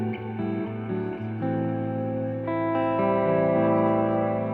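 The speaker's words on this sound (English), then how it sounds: "What I like to do is change the EQ of the reverb." Sustained electric guitar chords ring through a Walrus Audio reverb pedal with its EQ adjusted, notes layering into a thick, shimmering wash of reverb that swells louder partway through, with no talking.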